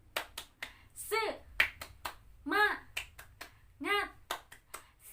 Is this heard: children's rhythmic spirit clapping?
yes